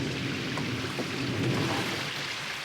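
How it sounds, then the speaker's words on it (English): Steady rain falling outdoors, a dense, even hiss with broadband patter that stays constant and fairly close throughout, with no voices. "Thanks for coming out in this rain."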